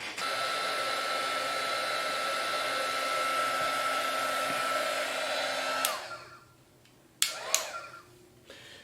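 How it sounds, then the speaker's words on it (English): A heat gun blows steadily at close range while drying Mod Podge on a ceramic tile, a loud continuous whooshing roar that cuts off near the end, followed by a few short clicks and knocks. "start drying this with the heat gun"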